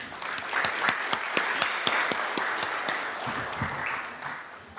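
A crowd at an awards evening applauds the coaches and families, a sustained wash of many hands with a few sharper nearby claps standing out, fairly soft and even throughout.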